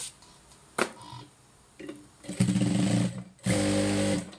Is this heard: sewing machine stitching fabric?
yes